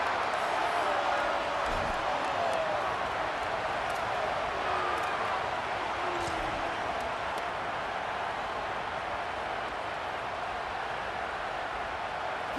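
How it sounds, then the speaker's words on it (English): Stadium crowd noise in EA Sports College Football video game rising on a third-down defensive stand, a dense, continuous roar that stays loud and even throughout without any clear voices. "Decibels rising as the crowd gets behind this defense on third down."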